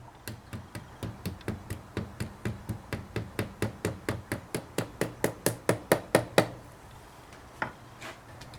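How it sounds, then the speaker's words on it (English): A hammer strikes the metal tabs of a CV boot band, about two dozen sharp, evenly spaced taps that speed up and grow louder before stopping, followed by one faint last knock. "then you need to hit those tabs in with a hammer"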